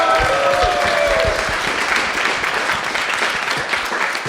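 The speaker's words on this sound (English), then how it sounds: "So big round of applause for Jessie, first of all" A live show audience in Germany breaks into sustained applause, a full, loud clapping crowd that stays strong and gradually thins slightly toward the end, with no speech over it.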